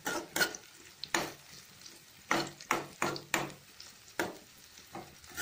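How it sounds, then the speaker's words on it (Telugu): Crab pieces sizzle and fry in a pan while being stirred, producing repeated scraping, clattering stir strokes over a steady low sizzle, close and fairly quiet. "ఇవన్నీ బాగా బ్రౌన్ కలర్ వచ్చిన దాకా వేగనిద్దామండి"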